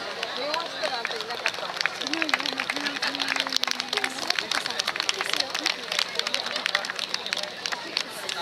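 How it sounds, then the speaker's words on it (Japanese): Audience applause greets a dance troupe taking the stage at the Nagayama Tonden festival, a dense, steady patter of many hands clapping that runs throughout, with crowd murmur and voices mixed in. "盛大な拍手でお迎えください"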